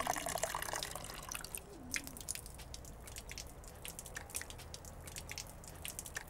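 Water drips in a quick, irregular patter while a water container is being filled in a children's show, sounding close and fairly quiet over a soft background hiss.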